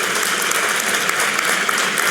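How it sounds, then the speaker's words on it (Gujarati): A hall audience at a religious festival lecture claps in dense, sustained applause, loud and even throughout with no break or voices on top. "નિત્ય સ્વરૂપ સ્વામીની નિષ્ઠાને ફરી એકવાર તાળીઓના નાદથી વધાવીએ."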